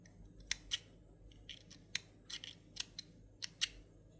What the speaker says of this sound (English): Now we can cut off the